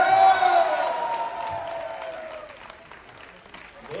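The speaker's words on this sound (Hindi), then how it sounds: "तालियां मार रही है" Steady applause from a crowd at a live comedy show, loudest at the start and gradually thinning out, with a few voices mixed into the clapping.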